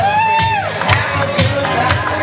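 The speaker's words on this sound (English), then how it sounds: "Another round of applause for the wedding party, ladies and gentlemen." Wedding reception guests cheering and clapping for the wedding party, a lively mix of whoops and shouts with scattered claps over sustained crowd noise, plus a rising musical tone.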